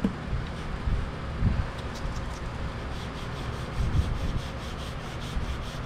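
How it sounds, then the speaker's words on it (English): A paint run on car bodywork being sanded by hand, a continuous rough rasping rub with uneven back-and-forth strokes close to the microphone. "I'm going to sand too much out here."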